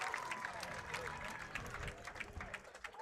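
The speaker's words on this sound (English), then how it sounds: "the crowd is going nuts" Crowd cheering and applauding at a college baseball game between App State and ULM after a batter legs out a triple, a steady roar of many voices and clapping throughout, with speech mixed in.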